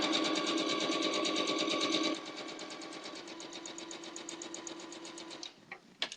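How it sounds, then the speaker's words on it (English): A sewing machine stitches a quilt block seam in a fast, even whir of needle strokes, louder for the first two seconds, then continuing more softly before stopping with a few small clicks near the end. "That seam is sewn."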